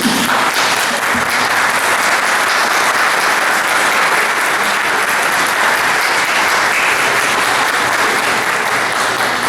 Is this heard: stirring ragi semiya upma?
no